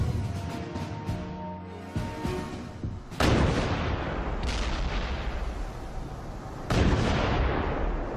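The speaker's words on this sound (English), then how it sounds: "the American attack begins with a massive naval bombardment" A massive naval bombardment of Tarawa in 1943 rumbles as heavy, continuous booms, with loud blasts breaking out near the three- and seven-second marks over a dense roar of artillery fire.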